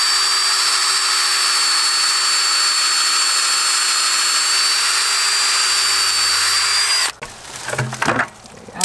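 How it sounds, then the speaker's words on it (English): Power drill boring a tap hole into a black walnut or maple tree for syrup in a Georgia backyard, a loud steady whine for about seven seconds, then stopping into wood scraping and handling noises. "All right, we got our hole drilled."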